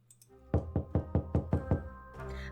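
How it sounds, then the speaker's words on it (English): A loud knock on a door in a narrative video game, six or seven firm raps in a steady rhythm, close and alone with no talk, followed by a low ambient hum. "A loud knock interrupts my train of thought, and August throws me a look."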